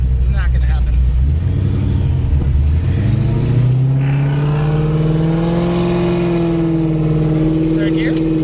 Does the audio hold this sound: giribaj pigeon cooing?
no